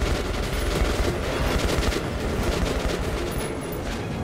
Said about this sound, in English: I'm just randomly shooting the damn thing.